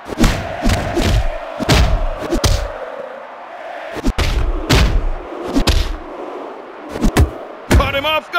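In the WWE Mayhem wrestling video game, a crowd roars amid repeated heavy thuds and slams, while an excited voice commentates over the action.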